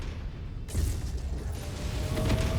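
A mech's reactor blows up in the video game Mechwarrior 5: Mercenaries, a sudden loud burst followed by a rumbling, crackling roar that keeps building through the moment.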